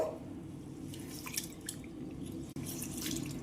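Rice being washed by hand in water in a kitchen, soft close-up sloshing and trickling with scattered drips and small splashes, steady and fairly quiet with no talking.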